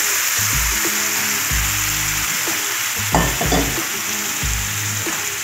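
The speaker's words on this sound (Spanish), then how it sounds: "Vamos a tirar las berenjenas en la sartén." Eggplant sizzling and frying in oil in a pan on low heat, a steady close crackling hiss throughout, with intermittent low clatter of stirring.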